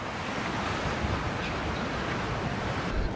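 Surf washing onto a beach in Bridgetown, Barbados, a steady broadband roar of breaking waves with wind noise on the microphone, continuous and fairly loud with no voices.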